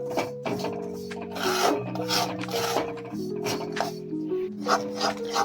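A spoon stirs ghee and jaggery in a pan over a low flame, making close, continuous scraping and rasping strokes with a soft tonal hum underneath.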